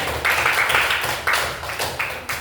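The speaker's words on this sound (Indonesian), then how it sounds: "Tepuk tangan untuk kelompok." Scattered clapping from a small classroom audience comes in uneven bursts that fade and renew several times, a modest round of applause for a group.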